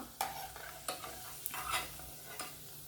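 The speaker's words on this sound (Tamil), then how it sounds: "அப்பப்போ ரெண்டு பக்கமும் நல்லா திருப்பி விட்டு ஃப்ரை பண்ணிக்கோங்க" Bread pakoda pieces deep frying in hot oil, a steady bubbling sizzle broken by several sharp clinks and scrapes of a utensil turning them over.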